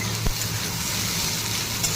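Chopped ginger and onion sizzle steadily as they fry in a pan, a continuous close hiss with a brief stirring clunk near the start and no voices.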